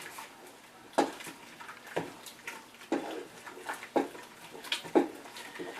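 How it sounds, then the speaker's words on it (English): A spoon works cream cheese into a pot of chicken broccoli cheddar soup, giving a steady series of soft scrapes and light knocks against the pot about once a second. "So let me stir that real good."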